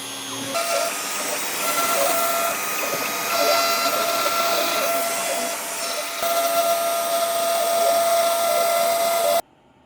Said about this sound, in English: Dust boot's attached. Spindle is on. And we are back to our detailed carve.